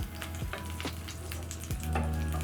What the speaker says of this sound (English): I just choose to do shallow frying because we don't want too much oil, just shallow frying